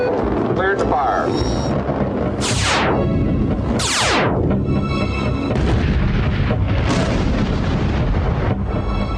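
A missile launches with a rolling boom and two quick rushing whooshes that sweep downward, followed by a sustained roar and further distant rumbling, with a voice speaking over part of it.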